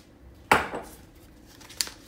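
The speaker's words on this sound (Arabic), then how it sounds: "نبداو اول حاجه نحطوا الفرينه" Flour tipped into a mixing bowl for Levantine sablé biscuits, giving a sharp soft thud followed by a brief rustling pour, then a second short clink-like tap near the end; close and fairly quiet, with no talking.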